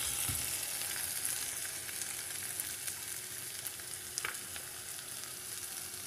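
Ginger and garlic frying in a pan as the base for a vegetable kurma, giving a steady, close sizzle and crackle that holds for several seconds with a faint stir near the end and no speech.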